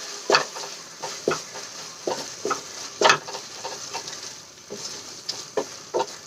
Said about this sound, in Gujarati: મસાલો એડ કરીને આપણે સરસ રીતે એને મિક્સ કરી લઈશું